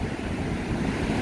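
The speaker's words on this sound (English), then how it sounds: "But look at the surf today." Ocean surf waves at a beach, a steady broad wash of rolling water with wind noise on the microphone, continuous and fairly loud, with no voices.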